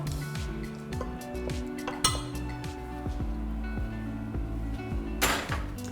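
A pot of lavender berry syrup is set on a stove, with close metallic clinks and a scrape of cookware over a steady low hum and a quick bright rattle near the end.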